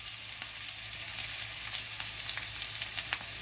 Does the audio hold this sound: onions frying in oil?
yes